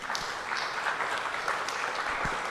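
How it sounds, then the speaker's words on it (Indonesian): An audience at a street photography discussion in Jakarta claps after a talk ends, a dense, even wash of hand claps at moderate loudness filling the whole stretch without talk. "Boleh tepuk tangan, silakan."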